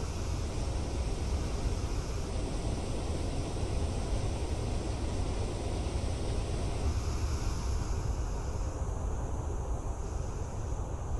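Waterfall in the railroad video game Railroads Online: a steady, dense rushing roar of falling water that holds evenly throughout, loud and close, with no voices.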